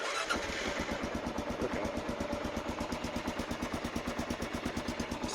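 A 2014.5 Kawasaki KLR 650 motorcycle started cold without the choke, settling into a steady, rapid single-cylinder idle thump, close and clear, with a brief spoken word near the start.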